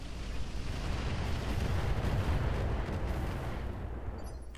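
Incendiary weapons fire at a mech in the video game Roguetech, a dense, continuous rumbling roar of barrage and blasts that stays loud throughout and tapers slightly at the end.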